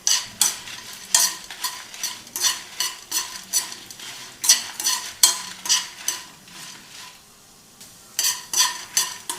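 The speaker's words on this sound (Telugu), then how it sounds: "ఇప్పుడు ఇవన్నీ దోరగా వేయించుకుందాము." Coconut pieces dry roasting with green and dried red chillies in a pan, stirred in a steady rhythm of scraping, clinking strokes with a brief pause near the end and no talking.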